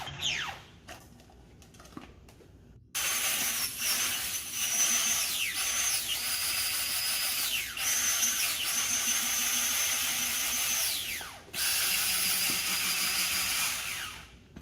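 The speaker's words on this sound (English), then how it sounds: "I'll go ahead and place the chicken breast into the blender and start the blending process now." A blender motor whirs loudly as it purees chicken breast for mushroom soup, starting after a short quiet lead-in and running in long bursts with pitch sweeps and a brief pause before resuming.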